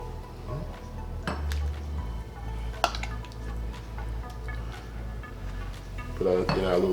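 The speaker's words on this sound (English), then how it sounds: "Let's go ahead and dish some of this up." Sweet and spicy sausage rounds are served from a crock pot into small serving bowls, with a ladle scraping and clinking against the ceramic pot and bowls, scattered knocks and clatters, and low kitchen background noise.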